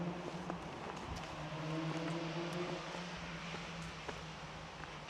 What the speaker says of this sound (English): As you can tell, the sound of motor vehicles.